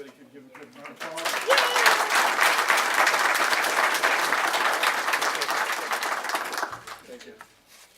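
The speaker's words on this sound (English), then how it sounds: "Everybody can give a good round of applause." Round of applause from the audience at a Washington County Board meeting, rising quickly after brief talk, holding steady and loud for several seconds, then tapering off as a voice returns.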